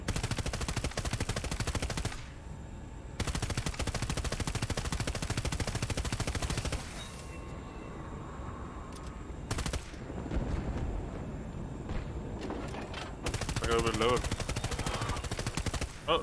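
Rapid automatic cannon fire from a stealth helicopter in Battlefield 2042, long dense bursts of booming shots broken by short pauses, loud and close, with a player talking over the gunfire at times.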